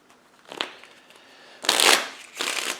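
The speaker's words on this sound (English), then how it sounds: "we're going to shuffle this deck up." Three bursts of a deck of Goonies Adventure board-game cards being shuffled, close and crisp. A faint riffle comes first, then two louder, longer shuffles with a brief pause between them.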